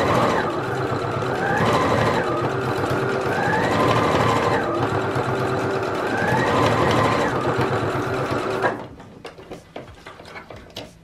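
A sewing machine stitches scrunchies in steady runs of fast, close mechanical chatter with rising and falling motor pitch, then stops and leaves a few light clicks and handling sounds.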